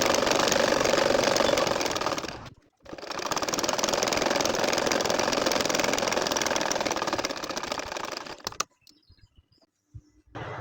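A sewing machine running fast, stitching a two-layer nakshi kantha quilt with doubled thread. It gives a dense, even mechanical whir in two long runs with a short pause between them, then stops with a few faint clicks.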